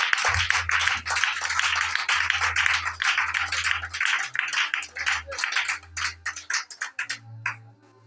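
A church congregation claps steadily and loudly in praise of Jesus, with low organ or keyboard chords and voices mixed in, and the clapping thins toward the end.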